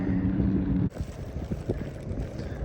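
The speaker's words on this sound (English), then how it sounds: "Wind's picking up." Wind blows outdoors at a fishing spot, a steady low rumbling rush buffeting the microphone, briefly heavier at the start and continuing throughout.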